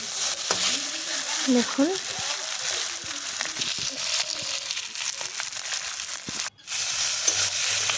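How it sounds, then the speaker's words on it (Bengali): Taro (kochur mukhi) stirred and fried in a pan for a vetki fish dish: a steady oily sizzle with scraping, crinkly stirring strokes close by, while a voice speaks briefly over it. "এগুলোকে আমি নেড়ে চেড়ে ভেজে নেব একটু।"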